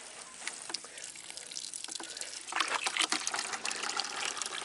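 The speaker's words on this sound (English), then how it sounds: "Fill up the girls' water." Water pours into a goats' water container, first a light splashing trickle, then a fuller, louder gushing fill that keeps running steadily.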